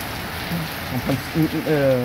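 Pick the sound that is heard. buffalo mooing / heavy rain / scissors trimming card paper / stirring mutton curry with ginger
heavy rain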